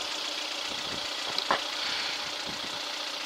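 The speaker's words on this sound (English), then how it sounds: "The engine sounds good." A car engine idles steadily after a distributor timing adjustment, a low, even running hum close by with faint ticking and one small clack partway through, no voices.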